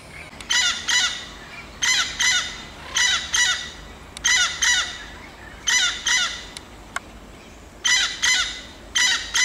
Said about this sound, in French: On entend les perroquets, mais on les voit pas